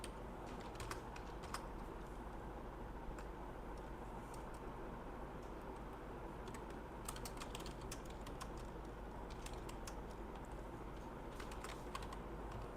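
Computer keys clatter in a steady, quick stream of soft clicks as Python code is typed, fairly faint and close over a constant low background hum, with no one talking.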